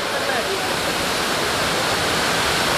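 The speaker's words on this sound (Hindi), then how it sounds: "सुबह ये देखिए पीछे आपका वाटरफॉल है" Kempty Falls in Mussoorie, Uttarakhand, roars as a loud, steady rush of falling water that fills the whole moment without a break.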